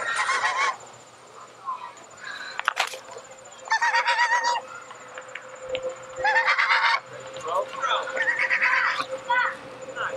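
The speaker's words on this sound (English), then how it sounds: "Swan goose." Swan geese honking loudly in repeated bursts at Miller Zoo in Bloomington, Illinois, several harsh calls close by with short pauses between, and a steady faint whine in the background.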